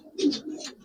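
A single Giribaz or Pangkhi pigeon kept for sale lets out a short, soft coo, close but quiet, lasting under a second with no talking over it.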